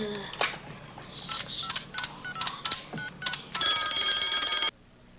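A telephone number is dialed in a video game, a quick series of distinct touch-tone beeps followed by a longer steady ringing tone that cuts off, close and clear.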